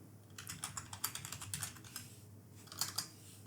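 Quick bursts of typing on a computer keyboard, close and crisp, clustered key clicks with brief pauses between runs and a few sharper taps near the end.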